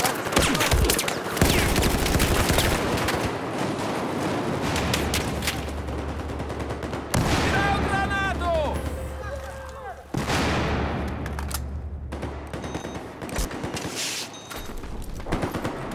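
Gunfire in Battlefield 4 during a Conquest round on the Operation Locker map, dense bursts of rapid automatic fire and heavy shots rattling nearly continuously, close and loud, with voices talking over the battle.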